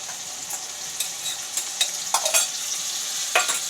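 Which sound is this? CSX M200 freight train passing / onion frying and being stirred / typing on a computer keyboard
onion frying and being stirred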